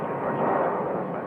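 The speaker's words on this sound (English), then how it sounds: "There's a southwest departure." A Southwest airliner departs from Phoenix Sky Harbor Airport, heard as a steady, broad jet engine roar at moderate distance.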